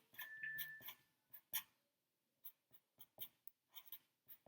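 Handwriting on paper during a May Day basket craft: quick, light strokes in short bursts with brief pauses between them, close and fairly quiet.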